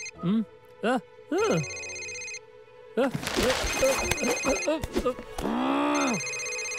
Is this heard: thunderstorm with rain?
no